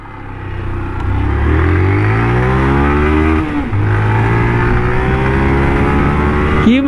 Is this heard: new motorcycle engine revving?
yes